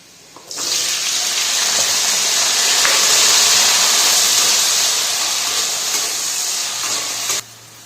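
Chopped onion and capsicum hit a hot pan for a chilli dish, setting off a loud, steady hiss of sizzling that starts abruptly and holds for several seconds before cutting off. No talking.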